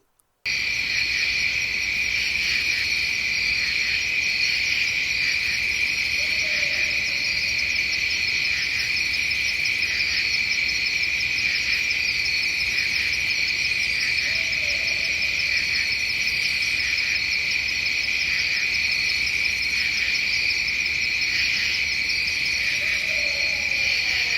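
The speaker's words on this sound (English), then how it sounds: "owl hoot calls, with one call that wasn't like the others" Owl hoot calls in the woods at night, three faint distant low hoots spaced several seconds apart beneath a loud, steady chorus of chirping crickets.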